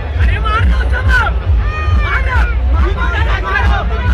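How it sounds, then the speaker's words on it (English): A crowd at an MMA kickboxing event at Malad Masti keeps up a dense, steady roar of overlapping shouts and cheers, with individual raised voices cutting through the din. "Crowd shouting"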